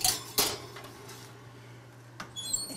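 A metal baking tray holding cauliflower steaks clanks twice into an oven, followed by a quieter knock and rattle as it settles, over a low steady hum.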